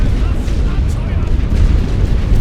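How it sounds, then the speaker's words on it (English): Rumbling artillery fire in the World War I strategy game The Great War: Western Front, a dense continuous low boom and crackle of distant shelling rolling without pause, loud throughout the short stretch. "I'm just going to send some small amounts of artillery, just in case"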